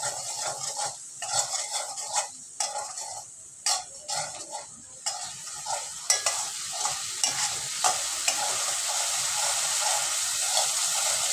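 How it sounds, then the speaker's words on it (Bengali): Spices with cumin and coriander powder being stirred in a pan, repeated scraping strokes over a gentle sizzle, close and rhythmic, settling into a steadier fry toward the end. "জিরার গুঁড়ো, ধনিয়া গুঁড়ো দিয়ে আমি এবার এগুলো সব একসাথে মিশিয়ে নেবো ভালো করে"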